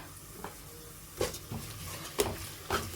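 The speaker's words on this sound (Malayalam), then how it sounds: "എല്ലാത്തിൻ്റെയും പച്ചമണം മാറുന്നത് വരെ ഒന്ന് വഴറ്റിക്കൊടുക്കുക" Kashmiri chilli powder and turmeric are stirred and sautéed in a pan, with a faint steady sizzle broken by a few soft clinks of a spoon against the pan.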